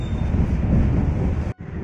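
Inside a moving passenger train bound for Kiaracondong station in Bandung, a steady low rumble and rattle of wheels on track fills the carriage, loud and continuous, with a brief drop near the end.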